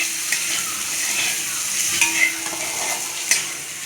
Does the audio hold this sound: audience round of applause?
no